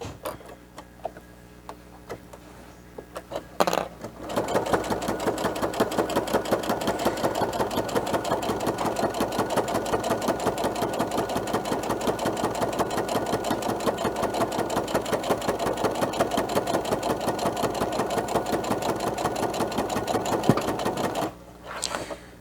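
A sewing machine backstitches along a fabric mask with pocket and nose piece, a fast, even mechanical chatter that starts after a few quiet seconds and runs steadily before stopping near the end.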